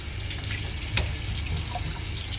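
Oxtail is rinsed under a running kitchen tap, a steady close rush of water splashing into a sink with a brief brighter splash midway.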